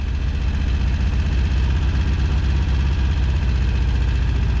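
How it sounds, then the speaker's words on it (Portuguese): A car engine runs steadily with a low, throbbing rumble as the clutch is released under throttle, holding a constant pitch throughout without voices. "Vai soltando a embreagem acelerando."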